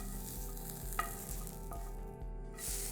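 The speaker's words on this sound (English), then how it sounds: "And then last step is to just fry off the potatoes." Potatoes fry in a pan for a breakfast casserole, a soft steady sizzle with a rhythmic low hum beneath and an occasional clink of a utensil, quiet and close, no speech.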